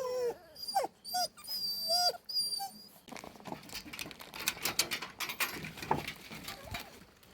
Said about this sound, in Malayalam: ഇതുകൊണ്ട് കിടക്കുന്നതല്ല നമ്മുടെ പ്യൂണിപ്പൊട്ടിൻ്റെ കുഞ്ഞുങ്ങളാണ്.